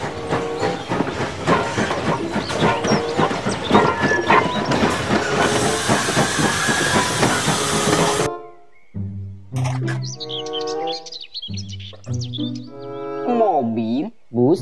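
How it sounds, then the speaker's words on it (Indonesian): A Thomas toy train runs with a dense clattering, hissing mechanical rattle for about eight seconds, then gives way to bright electronic tones and chimes from a toy. "Kereta Thomas."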